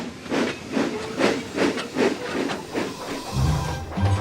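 Steam engine Thomas puffing along in rhythmic chuffs with a steady hiss, about eight regular bursts, fairly close, then a low deep rumble near the end.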